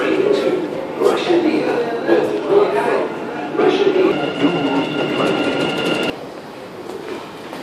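A Dubai Metro train runs with a steady rumble and rail clatter, a tonal whine rising midway, while people talk nearby over it and the noise drops off near the end.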